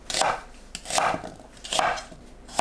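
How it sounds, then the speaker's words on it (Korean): A knife chops through onion on a cutting board in four slow, evenly spaced strokes, close and fairly quiet, with no talking. "양파를 크게 썰어주세요."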